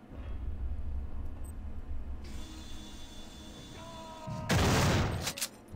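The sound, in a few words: gunfire from the video game System Shock 2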